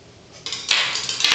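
Steak tartare seasoned with pepper gets mixed in a bowl, a few scraping and clinking utensil strokes starting soft and growing louder and closer over a short moment, with no talking.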